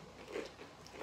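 Kettle-cooked black pepper potato chips crunch in one close bite and brief chewing, quiet and without talk.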